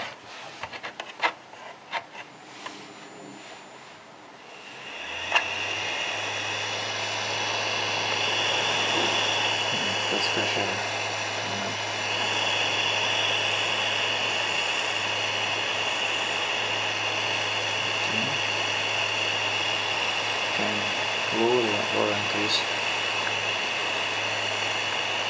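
An Ecoquest Fresh Air To Go air purifier switches on after a few seconds of small handling sounds and then runs with a steady low hum and an even airy whine, close by, with some faint clicks and rustles.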